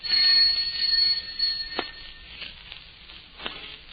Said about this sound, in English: Answer the doorbell, will you?